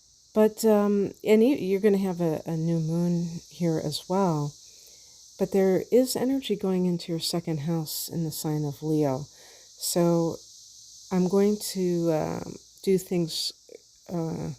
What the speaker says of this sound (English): if you hear rattling outside, it's because the cicadas are still going at it, getting busy.